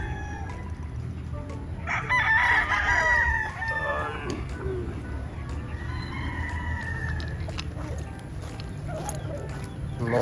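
Bullstag roosters crow and cluck in a noisy yard, one bright crow rising clearly over steady background din, with scattered clucks and faint distant calls continuing afterward.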